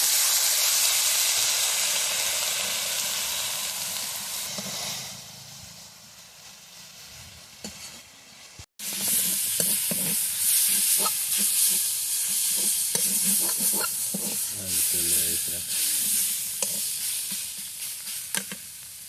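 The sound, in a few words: mustard greens frying and being stirred in a wok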